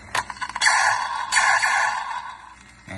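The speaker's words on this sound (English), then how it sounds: "Sound of the troop transporter cannon." The cannon sound from a vintage Star Wars troop transporter toy, heard close and alone: two sustained electronic buzzing blasts with a brief click between them, followed by a quieter tail.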